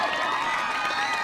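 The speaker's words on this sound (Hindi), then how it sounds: "एक बार मुकुल के लिए जोरदार तालियां हो जाए" A crowd at a school sports meet cheers and claps continuously in a loud, dense wash of applause and shouting.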